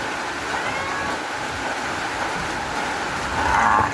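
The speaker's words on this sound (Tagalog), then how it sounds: "Mabilis na yung ulan, maingay." Heavy rain pours steadily on a farm, a dense, even hiss that fills the whole stretch without letup, loud and close, with no talk.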